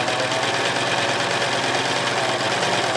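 A serger sewing machine with its blade engaged stitches an infinity scarf, producing a steady, close, continuous mechanical whir without pauses.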